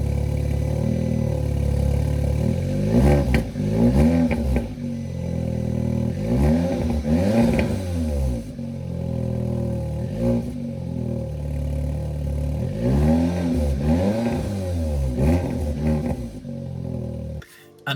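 The engine of an Audi S3, just brought back to running after a crash left it unable to start, revs repeatedly. It climbs and falls loudly and close in several separate pulls, then settles back to idle between them, with no talk over it.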